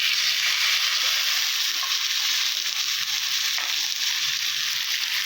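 Cumin, ginger and green chili paste sizzles in a frying pan, a steady close hiss of frying that holds at an even level with faint stirring underneath.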